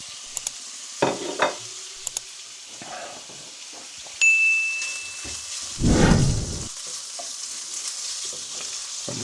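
Chopped bacon fries and crisps in a pan with a steady, close sizzle, broken by a few utensil clinks and stirring scrapes and a louder burst of sizzling partway through.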